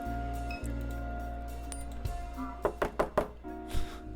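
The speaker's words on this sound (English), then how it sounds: "Catherine knocks on the door and hears the subtle sound of its unlocking" A secret knock on a door in the video game Norco: four or five close, sharp knocks in a quick rhythm over a low electronic hum, with a small click before them.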